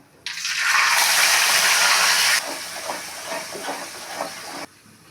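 A loud, sudden sizzle bursts up and hisses strongly as ground masala hits a hot pan, then settles into softer crackling and spitting before cutting off abruptly.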